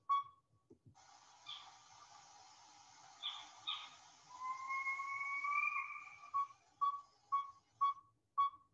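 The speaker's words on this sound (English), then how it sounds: "Now chirps and barks and wails." Northern saw-whet owl chirps, barks and wails: short sharp chirps and barking notes, then a long rising whistled wail, followed by a quick series of repeated toot-like notes, fairly close in a quiet setting.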